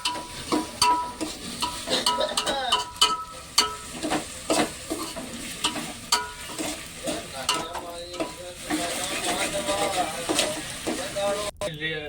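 Dried onion frying in a pan until red for a Gujarati village dish: loud, close sizzling with repeated scraping stirs and clinks throughout, without speech.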